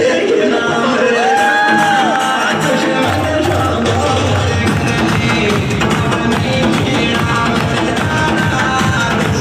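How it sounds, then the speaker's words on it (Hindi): A live audience roars with cheering, whoops and shouts at a Hindi-language motivational talk, a dense crowd wall of noise running steadily throughout with scattered clapping mixed into the din. "एक बार जबरदस्त ताली होनी चाहिए दोस्तों"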